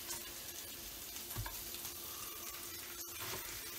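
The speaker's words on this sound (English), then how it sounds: "while that bacon's cooking" Bacon fries in a pan with a steady, close sizzle and crackle, plus a few faint clicks and movements.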